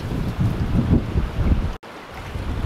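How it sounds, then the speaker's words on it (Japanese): Strong wind buffeting the microphone on a Maldives beach, a loud, continuous low rumble with gusts and a sudden brief dropout near the end. "風がめちゃくちゃ強いんで音声がうまく入ってなかったらすいません。"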